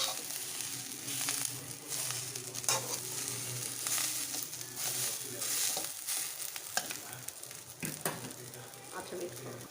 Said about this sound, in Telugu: పచ్చిమిరపకాయ ఇట్లా నూనె చాలా పోసుకొని ఇట్లా బాగా మగ్గించుకోండి